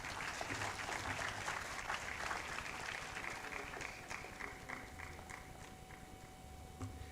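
An audience at a university career day forum in Ghana applauds after a speech, a steady, faint wash of clapping that sounds somewhat distant and tapers off slightly near the end.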